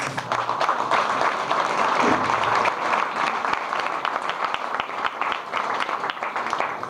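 A room of audience applauds steadily and densely throughout, the clapping holding at a fairly even level from start to finish.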